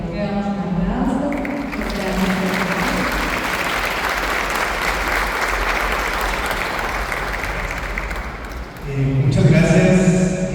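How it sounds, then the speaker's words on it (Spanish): Loud, dense applause from a church community audience welcoming a guest speaker, sustained for several seconds after a voice at the start, then giving way to someone speaking. "Le damos un aplauso"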